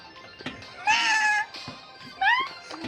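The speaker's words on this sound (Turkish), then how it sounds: "Kedi." Two clear, drawn-out cat meows, the second rising, with brief pauses and faint background sounds between them.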